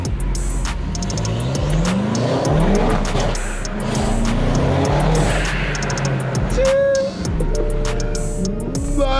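High-revving engine of a BMW M5 fitted with a Range Rover SVR exhaust, loud and close, with rising and falling rev sweeps, tire squeal and skidding bursts, and brief voices in the mix.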